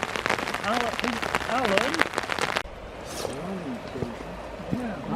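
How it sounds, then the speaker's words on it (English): Heavy rain pours down outdoors on a countryside ramble, a dense steady hiss of drops close by, with people talking over it and a sudden drop in level midway. "It's absolutely pouring down."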